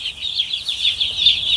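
Newborn chicks peeping continuously in a high, wavering chorus of shrill cheeps, close and loud, with no talk over them.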